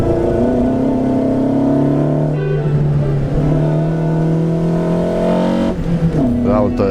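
A 1971 Fiat 128 replica hill climb and street car holds a loud, close, steady engine drone, with pitch changes partway through and a voice talking over it.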